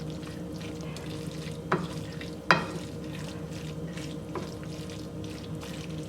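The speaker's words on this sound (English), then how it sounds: "So now I mix the rice all in." Rice being stirred into beef goulash in a pot makes a quiet, low simmering background with a few distinct scrapes and knocks of the spoon spaced a second or two apart.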